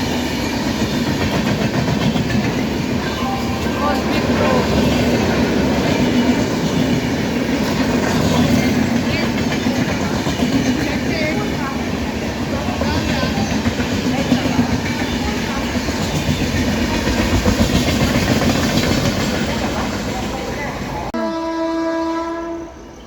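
The Narayanadri Express passes close by with a loud, continuous rumble and rattling wheels, and a horn sounds near the end.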